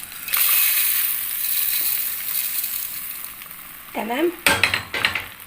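Rice poured into a hot pan of frying shrimp: a steady oily sizzle runs throughout, a short spoken word breaks in, then loud rattling, scraping bursts close by as the grains hit the pan.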